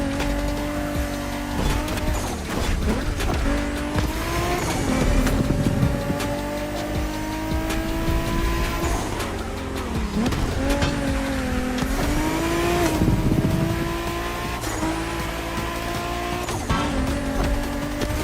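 Racing cars in The Crew Motorfest, including a Toyota Supra, roar with rising and falling engine notes and gear shifts, punctuated by tire squeals and skids, loud and continuous throughout.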